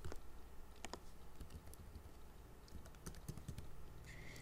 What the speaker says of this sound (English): by entering your password and clicking OK.